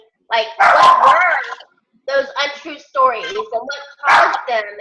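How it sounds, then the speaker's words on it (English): A dog barks a few times in the background of an online meeting while a person talks steadily over it. "can you mute that dog, whoever has that? Yeah, that's my dog."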